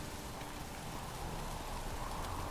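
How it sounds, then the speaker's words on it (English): Steady rain falls in The Witcher 3: Wild Hunt, a dense, even hiss of drops continuing throughout at moderate level with no voices. "Witches have conjured rain again."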